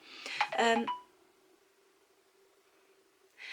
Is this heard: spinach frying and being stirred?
no